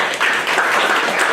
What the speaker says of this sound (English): So I think everyone here deserves a round of applause